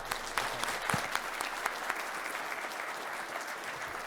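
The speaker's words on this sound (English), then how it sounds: "Please join me in a big round of applause for" An audience at an industry panel discussion applauds, a dense, even round of many hands clapping that holds steady and starts to fade toward the end, with no voices over it.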